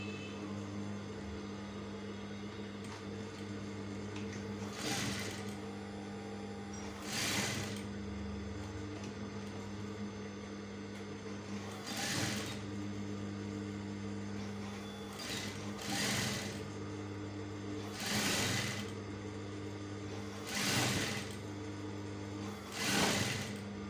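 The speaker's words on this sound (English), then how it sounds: "Still going to sew on this, sewing on this line, this black line I drew here." A sewing machine stitches along a drawn line on a shirt collar, running in short whirring bursts roughly every few seconds over a constant low electrical hum, with no talking.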